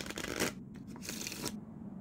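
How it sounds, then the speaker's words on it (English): A deck of playing cards is shuffled by hand, giving a close, crisp riffling rush that comes in two quick bursts before it settles. "Let me just shuffle them up really good."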